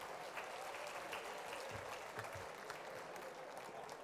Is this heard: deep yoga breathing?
no